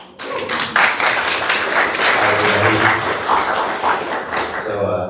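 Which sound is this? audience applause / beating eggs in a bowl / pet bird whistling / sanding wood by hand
audience applause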